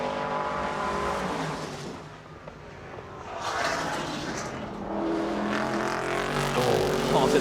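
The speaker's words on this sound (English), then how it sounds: "getaway off the line in the Nissan GT-R twin-turbo four-wheel drive monster from the FIA GT1 World Championship" A Nissan GT-R twin-turbo four-wheel-drive FIA GT1 race car pulls away hard on a hill-climb course, its engine roaring up through the gears, then lifting briefly before roaring up again close by.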